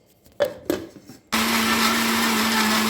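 A mixer grinder blends mango for homemade ice cream, starting with a couple of sharp knocks before the motor kicks in and runs at a loud, steady whir.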